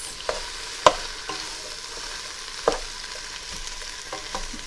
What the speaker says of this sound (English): I'm going to use a wooden spoon like I always do for stuff like this.